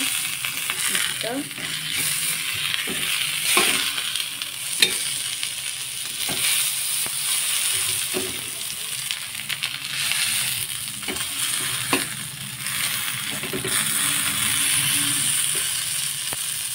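Fish frying in a pan until crisp on both sides gives a steady, close sizzle, with scattered small clicks and scrapes running through the whole stretch and no one talking.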